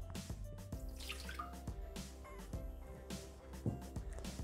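Water is poured into a Thermomix mixing jug, a faint, steady splash with soft knocks over a low background hum and no talking.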